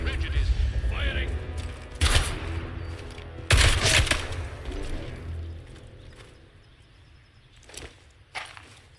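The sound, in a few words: gunfire from soldiers in the video game Atomfall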